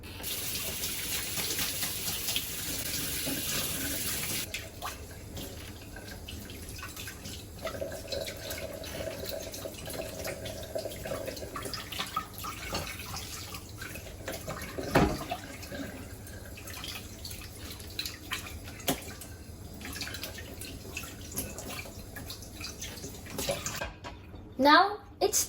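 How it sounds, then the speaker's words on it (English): Plates washed under running water in a kitchen sink, a steady rush of tap water with clinks and splashes throughout, loudest at the start, with talk over parts of it. "Our plates has just been washed"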